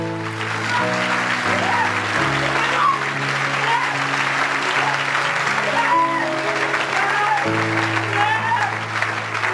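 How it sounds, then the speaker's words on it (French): A church congregation claps and cheers in praise of the Lord, sustained loud applause and crowd noise running throughout while a voice carries over it. "On acclame encore le Seigneur de gloire."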